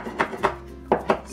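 A few knife strokes slice a chili pepper on a cutting board, four soft, close chops in two pairs with a short pause between them.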